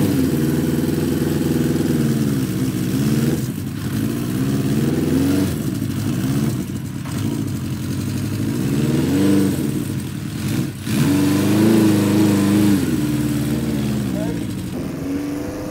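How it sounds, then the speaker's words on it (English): A Honda CB400 inline-four café racer on its first run, its engine idling and blipped through repeated rev rises and falls, loud and close for about sixteen seconds. "I just want you to have a listen to that inline four go."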